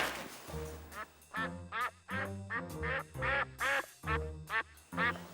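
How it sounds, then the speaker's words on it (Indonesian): Inside a home, a duck quacks about ten times in quick succession, loud and close, the calls coming in an insistent, uneven rhythm. "Suaranya bebek."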